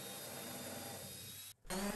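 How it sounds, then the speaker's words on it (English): A power drill bores into the center of an oak dowel for a wooden Pikler triangle, a steady close whirring grind that cuts off briefly near the end before a short restart. "I drill the centers of each dowel so they don't split when I go to screw them in for good"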